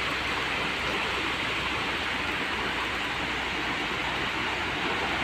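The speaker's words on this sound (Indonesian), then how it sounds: "Kondisi hujan." Steady rain pours down in a continuous, dense hiss with no breaks, loud and close throughout, with no talking.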